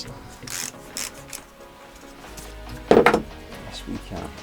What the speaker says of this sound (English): With a little 3/8 ratchet.